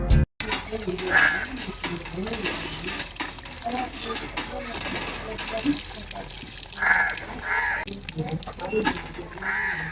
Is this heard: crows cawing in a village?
yes